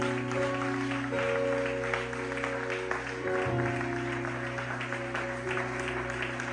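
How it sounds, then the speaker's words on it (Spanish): Church congregation clapping for the Lord after a sermon, a sustained wash of applause running the whole stretch with organ or keyboard tones held beneath it. "ese fuerte aplauso para el Señor"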